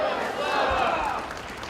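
Crowd at a Euromaidan rally in Toronto cheering together, a loud, swelling wash of shouting voices that peaks midway and then eases slightly, close and dense.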